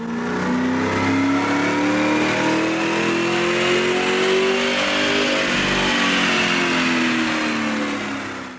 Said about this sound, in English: We begin with the baseline dyno run.